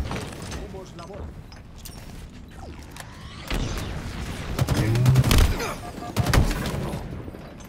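Gunfire in the video game Halo Infinite during a ranked match, with bursts of rapid shots and mechanical clatter building up, loudest near the middle and again near the end, mixed with game effects.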